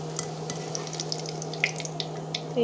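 Rice flour pitha made from parboiled rice frying in very hot oil, with a soft, steady sizzle, scattered light crackles and pops, and a low hum underneath.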